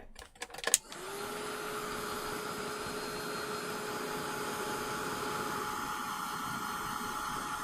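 A crafting heat tool dries a stamped card background, switching on after a few clicks and handling noises, then blowing with a steady loud whirring hum close by until the end.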